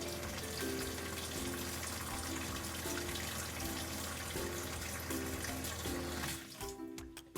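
Water runs through the hot and cold kitchen faucets of a camper being de-winterized, a steady, loud rushing gush into the sink lasting several seconds before it abruptly cuts off.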